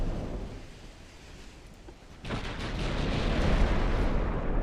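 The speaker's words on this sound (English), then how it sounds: "I am definitely taking this ship apart 1 HE hit at a time" High-explosive shell hits on a warship in Ultimate Admiral: Dreadnoughts, with a low rumbling boom swelling in halfway through and a heavy, sustained roar lingering afterward, no speech.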